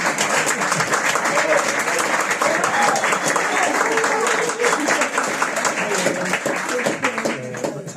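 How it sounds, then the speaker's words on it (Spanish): An audience at a book presentation breaks into dense, sustained applause, loud and close, with murmuring voices mixed into the clapping until it begins to thin near the end. "antes de mis merecidos aplausos."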